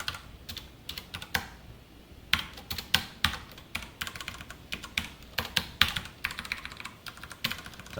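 Java code being typed on a computer keyboard, a steady close stream of clicky keystrokes with brief pauses and a few heavier key presses, no voices.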